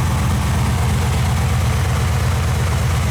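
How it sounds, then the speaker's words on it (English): A 1969 Camaro with a built 350 V8 running headers idles steadily at close range, its deep loping rumble pulsing evenly throughout with no voices over it. "It's got headers, just a built motor that sounds great and performs very well."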